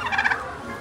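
A turkey at a zoo lets out one short, loud, close gobble that trails off quickly, with no voices heard.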